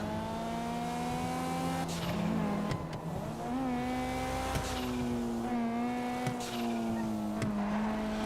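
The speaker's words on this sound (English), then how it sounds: "I think I got used to driving Clutch's car." Car engine droning steadily in The Last of Us video game, with a sustained tonal hum that shifts pitch as the vehicle drives, plus occasional clunks and bumps, continuous and moderately loud.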